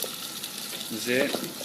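Sixteen small game birds sizzle in a pan in their own rendered fat, with no added oil, giving a steady close frying hiss that rises briefly, under a short spoken word.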